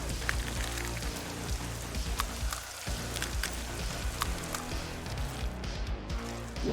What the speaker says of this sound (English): Look at that acid rain. It's going to disintegrate everything.